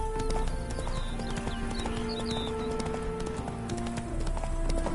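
Horse hooves clop steadily at close range in The Witcher 3: Hearts of Stone, with several short whinnies and snorts over a continuous ambient music bed.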